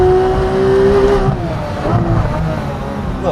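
A Porsche 991-generation 911 GT3 engine pulls hard under acceleration, a steady rising howl heard close from inside the car, with road and tyre roar beneath and a brief dip in the middle.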